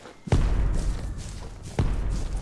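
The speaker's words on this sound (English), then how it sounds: "Somebody caught a mortar strike on somebody." Two heavy thuds from mortar strikes in a video game, one early and one near the end, each followed by a rumbling tail, fairly close and loud.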